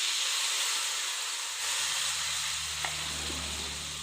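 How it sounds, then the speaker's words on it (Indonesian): Spices scorching in leftover oil in a frying pan, giving a steady close sizzle and hiss throughout with faint stirring scrapes and no talk. "Langsung buat gosong bumbu aja. Bumbunya digosong dulu."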